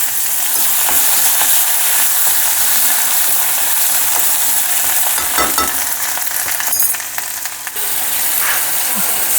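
Ginger garlic paste fries in hot oil in a pan on a lowered gas flame, a loud, continuous close sizzle with occasional scrapes and clinks of stirring.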